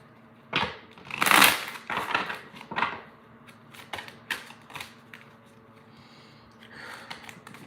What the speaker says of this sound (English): I'm trying to slow down and shuffle because they be all over the place.